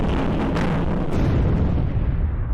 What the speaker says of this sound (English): The distinct sound of explosions on the horizon here in Kiev.